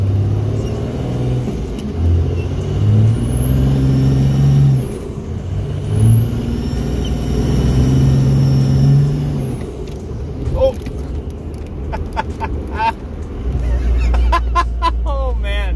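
A two-wheel drive truck revs and spins its wheels, its engine roaring in two long surges with rising whine, then tire noise and squeals as people talk and exclaim over it.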